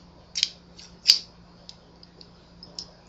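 Scissors cut through fabric for a pleated skirt in a few quiet, crisp snips, one sharper than the rest, spread unevenly over a low hum with no talking.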